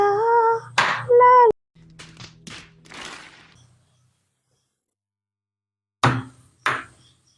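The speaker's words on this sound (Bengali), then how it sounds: "পেঁয়াজটাকে ছোট ছোট করে কেটে নেব।" A few sharp knife thuds on a cutting board as an onion is chopped into small pieces, sounding as isolated close knocks after a stretch of humming and quiet.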